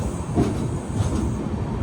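The Ernakulam–Bengaluru InterCity Express, an LHB-coach superfast train, rolls past close by, a loud, dense rumble with rhythmic wheel clatter that stays steady throughout, and no voices.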